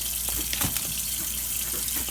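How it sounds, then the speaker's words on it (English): Tap water pours steadily into a cooking pot in a kitchen sink, a continuous loud splashing gush with small shifts in tone as the pot fills. "What I'm about to do right now is I'm running some water into this pot,"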